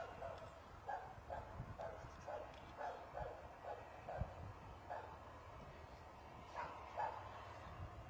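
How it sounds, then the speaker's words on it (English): Dogs bark repeatedly in the distance near an airport, a faint irregular series of yips and woofs over low background rumble, with no talking. "you do get quite a bit of barking every now and again"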